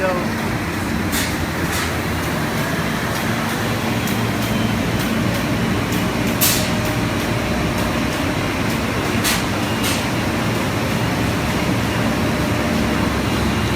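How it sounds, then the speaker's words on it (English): A large five-colour press prints books, giving a loud, steady mechanical drone with faint intermittent ticks and voices talking over it. "That's the machine which we use for printing the book."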